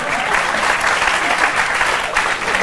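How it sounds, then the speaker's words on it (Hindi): A group of people clap together in sustained applause, a dense, loud and even patter close by that lasts the whole short stretch without a break or voices. "ताली बजाइए।"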